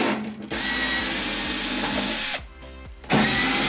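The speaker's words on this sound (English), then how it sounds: "Take out the three screws." A power drill backs out screws from a furnace blower motor in quick bursts: two long whirring runs of the motor separated by a brief pause, close up and loud, with no talk.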